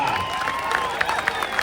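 A crowd at a traditional kusti wrestling match in Pune gives brief, uneven applause with a few sharp claps, mixed with faint cheering and thin whistling tones.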